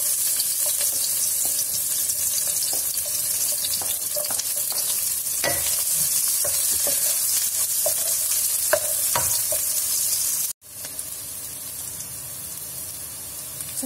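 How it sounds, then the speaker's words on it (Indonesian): Garlic and shallots hiss and sizzle steadily in hot oil as they are stir-fried, with scattered clicks of a utensil scraping the pan. The sizzle briefly drops out near the end and then returns. "Pertama kita oseng bawang putih dan bawang merah."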